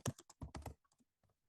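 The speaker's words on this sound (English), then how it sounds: "And here I'm just typing," Fast typing on a computer keyboard while coding a web application: a quick close run of crisp keystrokes, then a few softer scattered taps before it fades to quiet.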